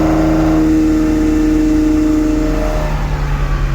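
A drift car's engine revs loud and close at high steady pitch, then the tone drops and wavers as the revs fall away, with no voices.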